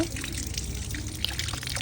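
Running tap water splashes steadily over country chicken pieces being washed for a curry, a soft continuous trickle with small drips and no talking.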